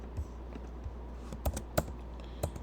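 Typing on a computer keyboard while writing Python test code, with a few scattered keystrokes and clicks spread irregularly over quiet room noise, close and fairly soft, with no talking.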